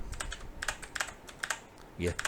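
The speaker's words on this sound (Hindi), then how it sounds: "ये आल्ट दबा के नीचे वाली एरो दबाएंगे तो ये वैल्यू आती है" Computer keyboard keys pressed during an Excel lesson, the Alt and down-arrow shortcut, as a series of crisp close clicks in quick irregular bursts, with a brief voice sound near the end.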